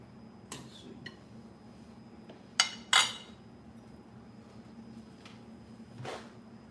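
A few sharp, faint metallic clinks of a fork and spoon against dishes, scattered singly over a quiet room hum, with two closer knocks near the middle.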